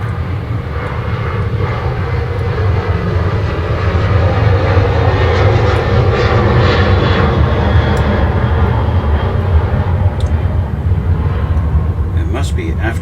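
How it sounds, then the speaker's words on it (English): Aircraft engines roar steadily and loudly as airplanes take off near an early-morning workspace, a broad continuous rumble filling the whole stretch with slight swells in intensity and a voice speaking faintly underneath. "Airplanes are starting to take off."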